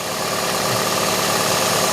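A 2004 Scion xA car engine idles with a steady, even hum and a faint rhythmic ticking, close by and continuous.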